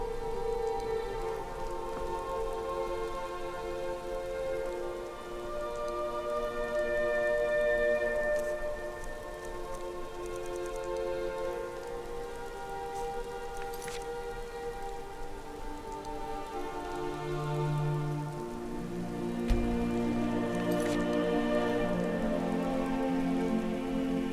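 Steady rain falls in Skyrim Special Edition, a continuous soft patter of drops on surfaces over a dim musical backdrop, even and unbroken throughout.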